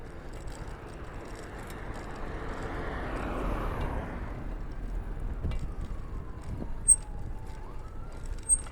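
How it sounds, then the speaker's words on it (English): A faint siren wails far off in a Las Vegas neighborhood, rising and falling over low traffic rumble, with a couple of brief clicks near the end. "I can hear a siren off in the distance."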